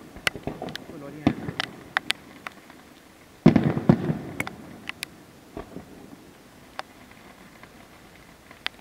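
Fireworks by Gioiese at the San Rocco 2017 festival in Noci, Bari: scattered sharp crackles and pops, with a dense louder burst midway, heard from a distance.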